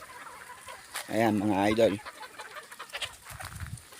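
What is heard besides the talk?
rooster and hen clucking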